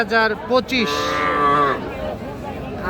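Cattle moo loudly at the Raniganj livestock market in Ghoraghat, Dinajpur, where young bulls and heifer calves are traded: a few short calls, then one long drawn-out moo, with faint crowd noise behind.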